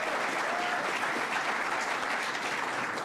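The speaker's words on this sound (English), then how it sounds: "Let's give a round of applause" An audience at a New York City congestion pricing announcement by Governor Kathy Hochul gives a steady round of applause, dense and even throughout without any talking.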